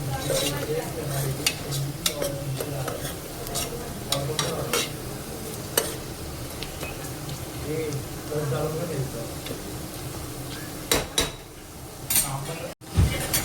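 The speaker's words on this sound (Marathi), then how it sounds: "छान सोनेरी रंग, गोल्डन ब्राऊन रंग येऊस्तर आपल्याला कांद्याला फ्राय करून घ्यायचं" Sliced onions sizzle and fry in hot oil in a pan, a steady crackling hiss with repeated metal spoon scrapes and clinks against the pan, while someone talks over the cooking.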